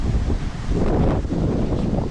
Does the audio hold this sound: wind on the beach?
yes